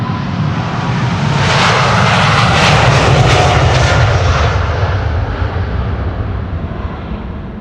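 A KLM jet airliner, flight 755 to Quito, departs Amsterdam Schiphol, its loud engine roar swelling to a peak midway and then tapering off gradually as it climbs away.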